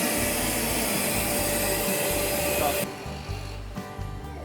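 A vacuum roars loudly while sucking up bees during a beehive rescue at a factory, a steady whooshing drone that suddenly cuts off partway through and leaves quieter rustling and handling noise behind, with voices faintly present.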